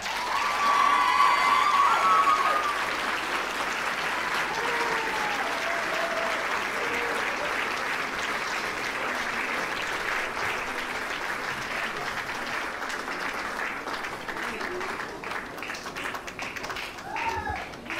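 A crowd gives long, sustained applause with cheers and whistles for a Tahitian dance group at a live show, loudest at the start, then settling into steady clapping.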